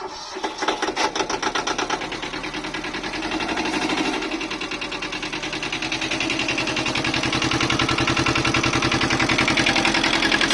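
A Yanmar YM1500 Japanese tractor engine runs close by with a rapid mechanical chatter, its revs rising and the rattle growing steadily louder and faster over the span.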